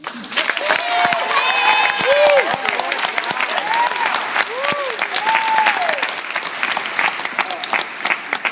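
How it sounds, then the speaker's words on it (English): Loud, sustained applause fills a hall at a college orientation opening ceremony as the orientation leaders are honoured, with whistles sliding up and down through the clapping and scattered cheers. "I would like you to join me in giving them a huge round of applause"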